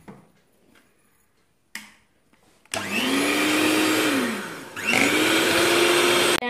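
An electric hand mixer beats sugar into cream for whipped cream, two loud sustained whirring bursts with a humming motor pitch that dips and recovers, after a quiet start with faint clicks.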